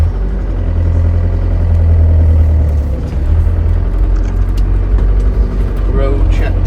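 A 1999 Ford Transit Autosleeper Duetto camper with its 2.5 non-turbo diesel pulls away, a loud low diesel drone and rumble, with gear changes and someone talking over the engine.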